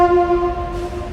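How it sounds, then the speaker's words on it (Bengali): An approaching train on a railway line near Joypur forest in Bankura sounds a loud, sustained horn note that cuts off partway through, leaving a low rumble beneath. "আর এই রেল লাইনের এখান থেকে এখন একটা ট্রেন আসছে।"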